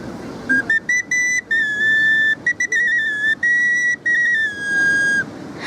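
A shrill, steady whistle from a clay toy whistle, blown in a series of short bursts with brief gaps, the pitch wavering slightly, heard up close against a faint background hiss.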